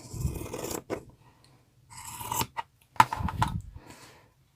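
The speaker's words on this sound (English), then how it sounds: "these pinking scissors, which have little grooves cut out of the notches, and they cut" Pinking scissors with grooved, notched blades cut through fabric in a few close, crisp crunching snips separated by short pauses.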